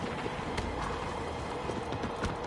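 Horse hooves clip-clopping steadily in Shadow of the Colossus, a fast, even trot of soft thuds blended with a dense game ambience, continuous for a couple of seconds with no talk.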